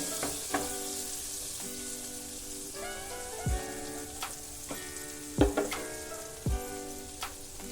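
Butter melts and sizzles steadily in a hot pan while white sauce pasta is being made, a soft continuous hiss broken by a few sharp pops and utensil taps, close by with no talking.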